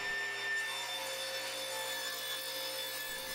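Table saw cutting down a scrap hardwood base in a woodshop, a steady continuous whining drone with a high tonal hum, close and even for about three seconds.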